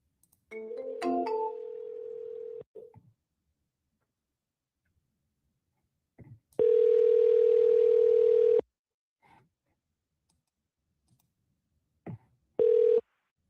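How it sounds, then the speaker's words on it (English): Outgoing telephone call ringback: a steady electronic tone sounds in long bursts separated by silence, the last burst cut short as the line is answered. "Ringing."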